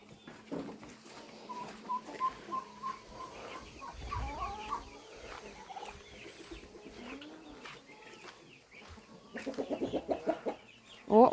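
Chickens cluck in a farmyard, with scattered close clucks and calls, quieter stretches in between, and a louder burst of clucking toward the end.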